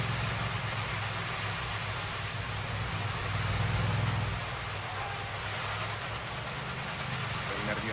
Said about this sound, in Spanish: Ahora se ha puesto a llover.